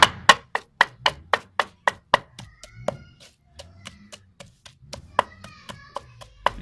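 Almonds being pounded by hand for thandai, a steady run of sharp, dry knocks that starts fast and regular, then slows into looser, uneven strikes, with faint voices and clinks in the background.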